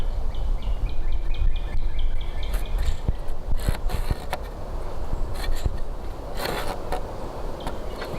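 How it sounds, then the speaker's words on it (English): A bird chirps and sings at moderate distance, mixed with occasional clanks, knocks and steady background noise. "Hear the bird serenading us."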